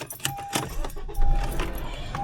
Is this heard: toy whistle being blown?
no